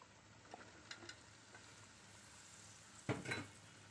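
Cut potatoes going into a sizzling pan with jackfruit seeds: a soft frying hiss throughout, with small clinks early and a louder burst of sizzling and rattling near the end, faint and close, no talk.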